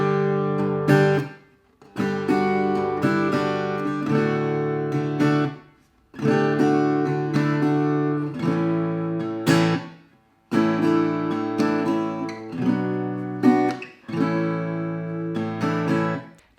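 An acoustic guitar plays extended chords with melodic noodling, changing the voicing often. Ringing strummed phrases come in several bursts of a few seconds each, separated by brief gaps, close and clear with no talking.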